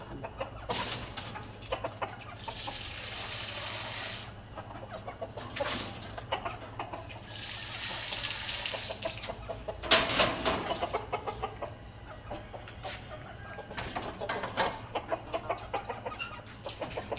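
Chickens cluck at a farmyard feeding, repeated soft clucks and murmurs rising in bursts over a low steady background hum, with no talking.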